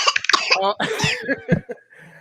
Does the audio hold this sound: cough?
yes